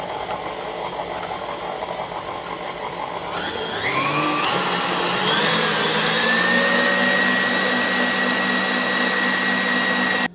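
An electric mixer whips cream toward butter, its motor whine rising sharply as it is pushed to top speed, then holding a loud, steady high-pitched drone.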